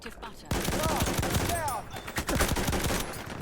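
Loud, close automatic gunfire in Battlefield 1, fast repeated shots in bursts with brief pauses, mixed with battlefield noise and some faint speech.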